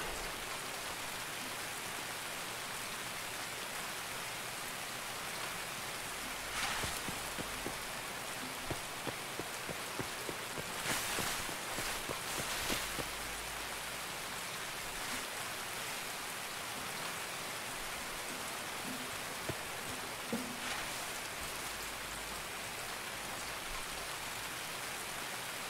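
Steady rain falling in the Escape from Tarkov shooter, a continuous even hiss of drops on surfaces with occasional louder patters, no voices.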